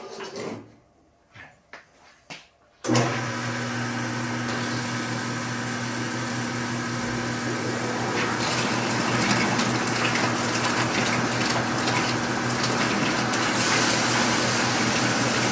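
A broken, long-forgotten commercial hot water pressure washer comes back on: a few knocks and clunks, then an abrupt loud start into a steady pump drone with rushing water that grows slightly fuller and keeps running.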